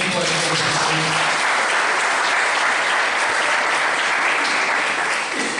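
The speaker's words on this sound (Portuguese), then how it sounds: "Dê um aplauso ao Senhor." Congregation applauding during a church service, a dense, steady wash of clapping that holds loud and full for the whole stretch.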